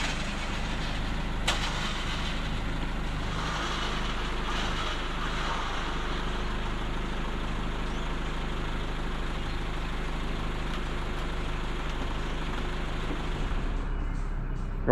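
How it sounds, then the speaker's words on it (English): Four-wheel drive vehicle reversing in low range while towing a Holden with a boat trailer attached out of the Brisbane River, a steady diesel drone and rumble that holds throughout, with no talking. "Dan's put it in reverse, low range four-wheel drive"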